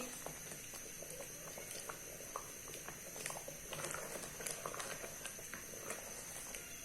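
Carrot rice kheer simmers on a medium flame, a faint, quiet bubbling with soft irregular pops and ticks scattered over a low hiss, with nobody speaking.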